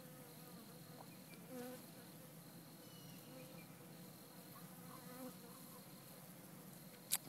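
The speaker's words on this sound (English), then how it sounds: "But one of my hives decided to go ahead and swarm," Honeybees from a swarming backyard hive buzz in a dense, steady drone that holds at an even, moderate level throughout, with a few brief louder moments and a sharp click near the end.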